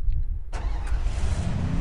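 A motorcycle engine in the Free Fire battle royale game starts with a sudden loud catch and settles into a steady, close, rumbling run, with no talk over it.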